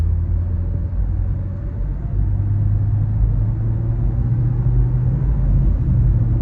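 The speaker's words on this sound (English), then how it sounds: "Let's just go ahead and pop this thing into gear and let's go for the first drive" A rebuilt 2018 Nissan Versa pulls away on its first test drive, its engine a steady low rumble heard from inside the cabin, with road noise holding level throughout.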